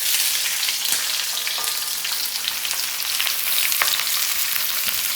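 Onions fry in hot coconut oil in a kadai, giving a dense, loud, steady sizzle with scattered crackles and light stirring clicks, close up and without talk.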